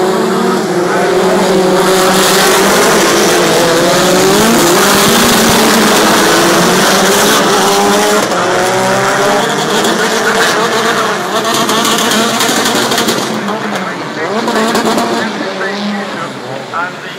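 BTCC touring race cars at Brands Hatch in 2012 roaring up the hill as a pack, loud engine notes rising and falling with gear changes, while a commentator talks over them throughout.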